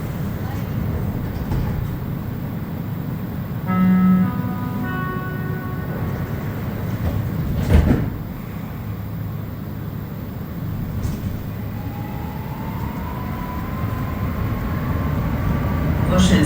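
A Montreal metro train approaches Vendôme station with a steady rumbling roar while riding in the back car. A brief chime-like tone and a sharp clunk interrupt the rumble, followed by a faint rising whine as the train slows.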